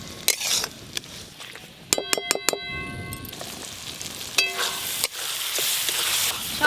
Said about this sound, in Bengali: এইভাবে নাড়তে নাড়তে টমেটোগুলো খুব ভালো করে গলিয়ে দেবো।